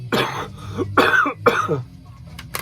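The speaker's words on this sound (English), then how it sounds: "it's going to make me cough now" A few harsh coughs and throat-clearing sounds in quick succession, close and fairly loud, then quiet.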